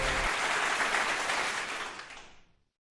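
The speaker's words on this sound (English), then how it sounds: "Everyone, a big round of applause for BMC." Applause from an awards ceremony audience for the Bhubaneswar Municipal Corporation at a health honours event rises as a dense, steady burst of clapping and then fades out toward silence.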